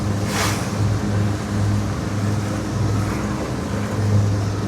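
A boat ploughing through three- to four-foot offshore waves taken broadside, about 45 miles out, giving a steady loud engine drone under rushing water and hull slaps.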